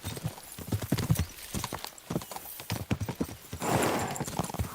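Horses gallop in Kingdom Come: Deliverance II, a dense run of hoofbeats thudding close and steady in rapid rhythm, with a whinny-like surge and rising noise near the end.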